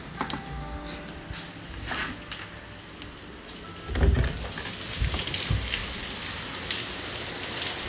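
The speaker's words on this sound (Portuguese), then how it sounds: "Aqui, ó a chuva." Heavy rain pours outside near an office anteroom, a steady close hiss of drops on surfaces with a louder thump partway through, no voices.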